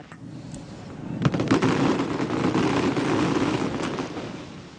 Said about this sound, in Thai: การจุดพลุและดอกไม้ไฟเฉลิมพระเกียรติอย่างยิ่งใหญ่และสวยงาม